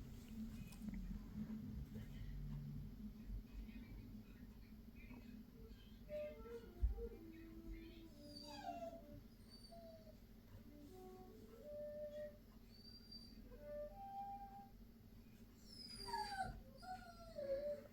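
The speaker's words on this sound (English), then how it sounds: "there's dogs whining" Dogs whine and whimper in a busy, chaotic household, the thin cries rising and falling repeatedly against a steady wash of background noise and people talking.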